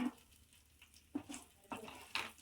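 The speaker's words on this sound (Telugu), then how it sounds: "తాలింపు బాగా వేయించుకోవాలి" Dry red chilies, cumin and garlic fry in hot oil for a tempering. A quiet sizzle is broken by a few sharp clinks of a spoon against the pan.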